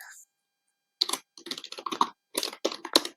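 Someone types a Python print statement on a computer keyboard in quick irregular bursts of close clicks and key taps, separated by short pauses.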